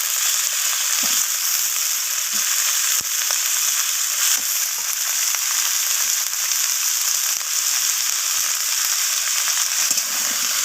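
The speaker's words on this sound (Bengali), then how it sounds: "আর এখানে দিয়ে দিলাম কুমড়োগুলোকে।" Pumpkin pieces stir-fry in a hot pan with a continuous loud sizzle and occasional scraping stirs, no voices over it.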